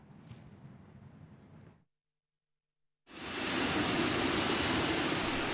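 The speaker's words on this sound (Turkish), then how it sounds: "Atak 2 helikopteri ilk kez motor çalıştırdı." ATAK-2 attack helicopter turbine engine running for the first time, a loud steady broadband jet roar that rises in after a brief gap of silence, preceded by softer rumbling noise.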